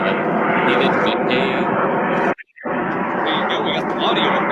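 Carrier aircraft engines of Virgin Galactic's launch plane carrying VSS Unity, airborne during a live spaceflight launch, give a loud steady broadband roar that briefly cuts out midway before resuming, with people talking over it.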